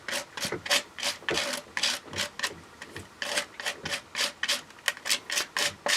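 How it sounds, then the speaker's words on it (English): Craft product being scraped super thin across a card: a steady series of short, raspy strokes in a regular rhythm, close and clear with no talk. "I'm just scraping it super thin."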